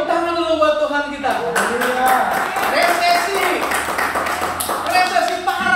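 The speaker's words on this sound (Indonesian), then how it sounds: "Tepuk tangan dulu buat Tuhan kita." Congregation clapping during a church service, with loud singing or voices carrying over the clapping throughout.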